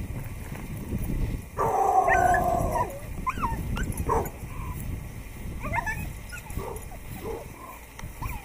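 An American Pit Bull Terrier treated for aggression toward other dogs whines and yelps in short, high whimpers. A steady tone sounds near the start, and the noise of an outdoor training walk carries on underneath.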